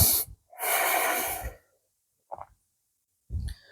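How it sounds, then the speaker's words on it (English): Slow, deep breathing during a gentle yoga stretch with knees drawn to the chest, a long airy exhale followed by quiet pauses and a couple of shorter, softer breaths close to the microphone. "we're just going to bring the knees close to the chest here as we're breathing"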